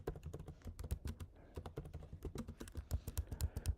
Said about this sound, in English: I'm actually on my Mac laptop keyboard